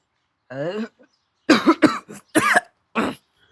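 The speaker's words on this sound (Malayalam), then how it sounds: "ഡാ ചുമക്കണ് വയ്യാണോ നിനക്ക്" Several sharp coughs burst out in a quick irregular series, close and fairly loud, after a brief spoken sound at the start.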